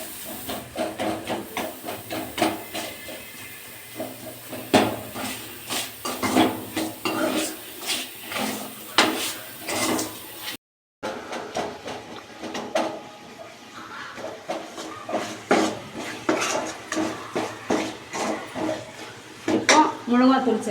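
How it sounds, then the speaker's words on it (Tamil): Tomatoes with salt sizzle and hiss in a hot pan for mutton head curry, a steady frying crackle with occasional stirring clinks, broken by one brief cut. "உப்பு சேர்த்து நல்லா இதை வதங்கிக்கலாம்."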